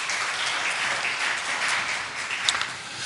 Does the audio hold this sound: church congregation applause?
yes